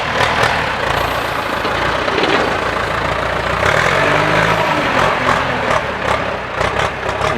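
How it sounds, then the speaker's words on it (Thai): A Ford 6610 farm tractor fitted with a NASA cane grab idles during sugarcane loading, a steady loud diesel rumble with some engine-note shifts midway, no talking. "ก็เป็นรถรถไถฟอร์ดนะครับ"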